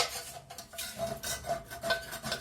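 A utensil scrapes and stirs across the bottom of a pan as beef burgundy cooks, with flour stuck to the base. The rasping continues steadily and close up, with no talk over it.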